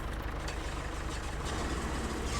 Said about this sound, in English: Ugh, my truck sounds worse than those tractors.